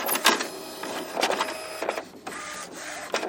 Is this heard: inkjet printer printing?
yes